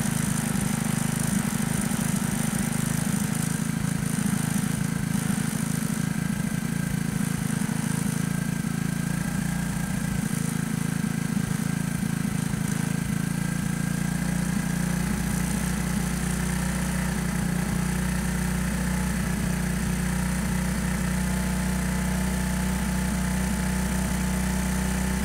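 Small engine with an air-screw type carburetor held at its highest RPM while the air screw is adjusted, giving a steady, loud, unbroken drone throughout.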